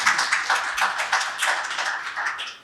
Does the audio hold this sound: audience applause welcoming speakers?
yes